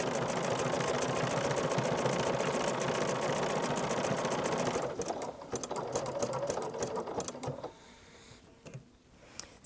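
A sewing machine stitching a scrappy fabric coffee mat whirs in a rapid, steady rhythm up close, then slows into shorter bursts and stops toward the end.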